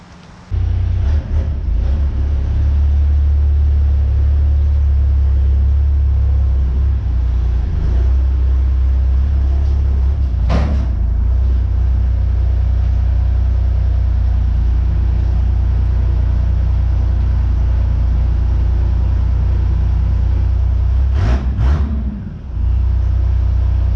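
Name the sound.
truck engine running on a dyno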